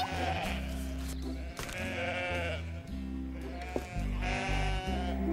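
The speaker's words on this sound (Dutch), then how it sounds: "hoe kom ik ooit langs zo'n hele kudde schapen?" Many sheep bleat over one another in a steady, overlapping chorus, with a low rumbling hum running underneath.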